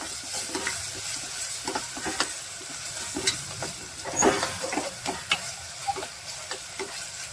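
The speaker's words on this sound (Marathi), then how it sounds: "कांदा चांगला फ्राय झाला." Onion frying in a pan for a dish of hadga (agathi) flowers: a continuous close sizzle with frequent uneven spatula scrapes and taps, one louder stir near the middle, and no voices.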